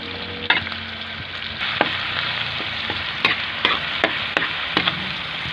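Tomato and shrimp paste sizzling in a frying pan, a loud continuous close hiss broken by scattered utensil clacks and stirring scrapes, with no talking.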